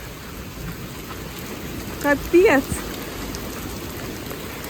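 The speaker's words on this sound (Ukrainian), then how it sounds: "Ой, який почався дощ." Heavy rain begins to fall outdoors as a steady broadband hiss with a couple of brief louder bumps; a woman exclaims briefly partway through.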